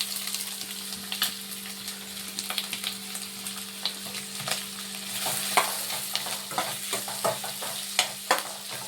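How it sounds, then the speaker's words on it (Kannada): Green chillies and chopped onions fry in hot oil, a steady sizzle with frequent sharp scraping clicks of a spatula stirring the pan, close and continuous with no talk. "ಅದು ಹಾಕಿ ಸ್ವಲ್ಪ ಚೆನ್ನಾಗಿ ಫ್ರೈ ಮಾಡ್ಕೊತೀನಿ."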